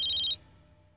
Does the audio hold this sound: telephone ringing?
yes